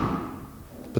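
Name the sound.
Nissan Juke rear door closing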